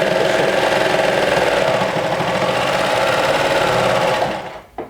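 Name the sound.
sewing machine stitching a shirt pocket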